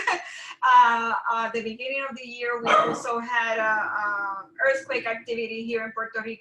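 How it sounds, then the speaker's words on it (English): A pet dog barks, yips and whimpers in short bursts close by, mixed in with a person talking throughout. "that's my dog"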